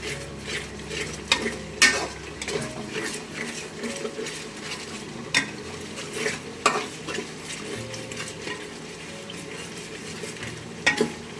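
Spice masala for beef rezala with potatoes frying and being stirred in a pan, with a steady sizzle under repeated scraping and clinking of a spoon against the metal.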